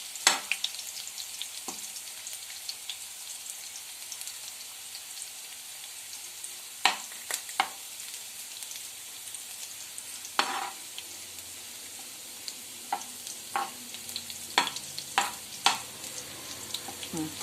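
Ingredients frying in a pan for chicken curry, stirred until browned: a low, quiet sizzle broken by scattered sharp scrapes and clinks of a spoon against the pan, with no voices.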